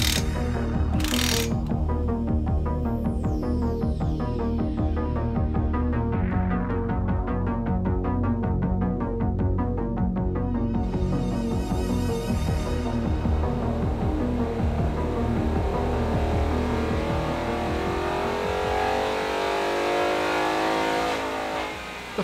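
A 2018 Ford Mustang engine revving hard on a dyno, a loud continuous roar that climbs steadily in pitch through the gears with brief shift breaks, then winds down at the end.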